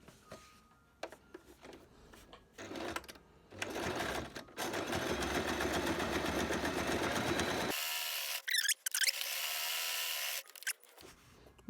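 A sewing machine top stitching fabric runs in a fast, even mechanical whirr, in long, sustained stretches broken by short stops and restarts. It is close and fairly loud, with brief handling noises between runs.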